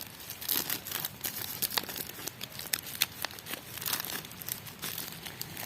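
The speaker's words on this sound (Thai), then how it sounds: "แล้วก็นำหนังยางรัดนะครับผม รัดปากพลาสติกไอ้ถุงพลาสติกไว้นะครับ" Thin plastic bag crinkling as its mouth is bound shut with a rubber band while potting a kaffir lime cutting, close and continuous with dense rustling bursts throughout.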